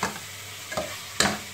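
Spices stirred in a cooking pot for a beef and potato curry, three scraping strokes over a soft, steady sizzle.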